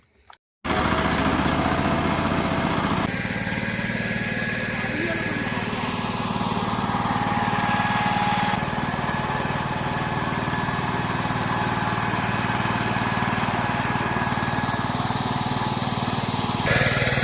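A power tiller engine runs steadily and close by in a rural Bengali setting, a loud continuous rattling drone with a shift in tone partway through while people talk over it.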